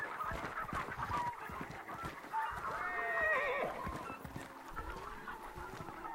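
Horses whinny in Hunt: Showdown, several shrill neighs rising over a busy backdrop of footsteps and rustling, moderately close and mid-level in loudness.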